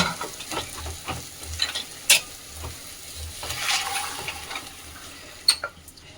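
Tomatoes sauté in a pan, a soft, low sizzle broken by intermittent stirring scrapes and a couple of sharp clinks of a utensil against the pan.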